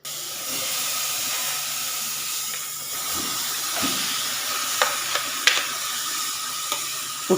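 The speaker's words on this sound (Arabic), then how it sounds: "انا بقى بشوح الكبده اهي على النار" Egyptian-style liver with fat pieces stir-fries in a hot pan over a flame, a steady loud sizzle and hiss with occasional scraping stirs and light clicks.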